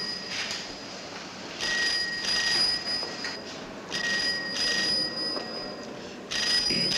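A telephone rings in repeated electronic bursts, each trill lasting about a second with short pauses between, fairly clear over a faint room background.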